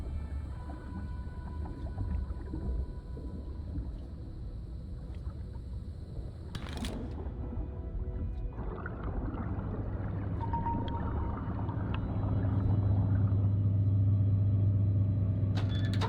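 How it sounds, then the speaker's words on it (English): Pumps in the Beyond Blue VR undersea game rev up: a steady low machine rumble that swells after a few seconds into a loud, sustained droning hum, with no talk over it. "Now let's rev the pumps up"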